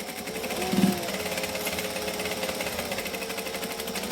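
A sewing machine runs a back stitch on a fabric color book project with a fast, steady mechanical rattle throughout, close and fairly loud, with no talk.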